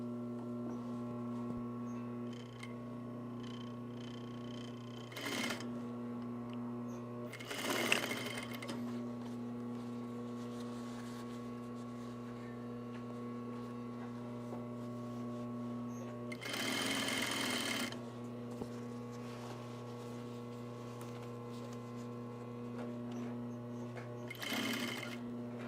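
A sewing machine stitches a shoulder bag in short bursts, with several brief runs standing out over a steady background hum, fairly close and with no talking.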